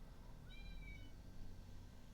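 A cat gives a single short, thin meow in the middle of a quiet moment, slightly distant and alone over a low steady background hum.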